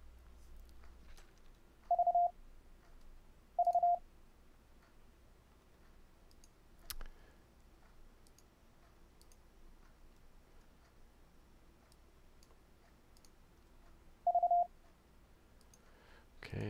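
Morse code sent over the internet and looped back from a server comes through as a few short, clean tone beeps, two close together and one much later, sparse over a faint background hum.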